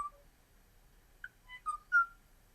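A male Kauai oo on Kauai sings a sparse series of clear, flute-like whistled notes, a few separate calls rising toward the end against near silence.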